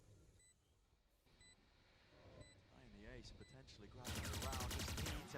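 Phantom rifle spray fire in the tactical shooter Valorant at a pro esports match, a dense rapid burst that comes in loud near the end after quieter game sounds, with an excited caster talking over it.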